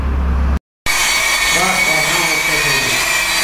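A drill machine fitted with a mixing paddle stirs tile adhesive chemical for exterior wall tiling, a loud steady motor whine with churning, broken by one brief cut to silence, then continuing close and constant.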